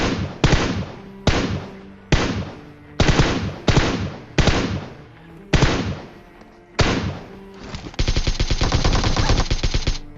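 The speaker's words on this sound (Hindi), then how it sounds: "मैं यहाँ पे फायरिंग करने लग जाता हूँ।" Gunfire in a battle royale video game: repeated loud bursts of rapid shots with brief gaps between them, then a longer sustained automatic volley at the end.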